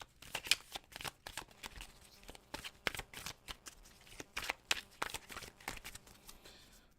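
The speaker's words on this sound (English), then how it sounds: "Let me shuffle these back in." Tarot cards are shuffled close up, with a quick, repeated run of soft riffling bursts and no voices.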